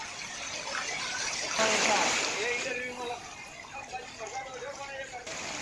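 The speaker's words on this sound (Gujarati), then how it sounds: "રસ્તાઓ પર કઈ રીતે પાણી વહેતા નજરે પડી રહ્યા છે" Floodwater rushes and splashes steadily through town streets after heavy rain in Ambaji, with voices murmuring faintly underneath.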